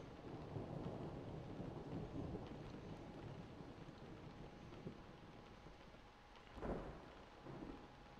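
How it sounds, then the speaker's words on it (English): Thunderstorm with steady rain falling throughout, a low rumble of thunder underneath, and a sharper thunder crack rising briefly near the end; fairly quiet and distant overall, with no talking. "Listen to that sound of the thunder and the rain."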